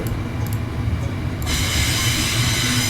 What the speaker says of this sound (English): That's a long freight train